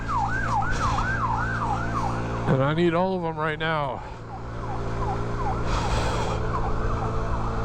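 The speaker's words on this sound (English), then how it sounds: "And of course the ambulance is behind me now." An ambulance siren in Las Vegas wails in repeated rising-falling sweeps, switching briefly to a louder rapid yelp, with a voice talking over it.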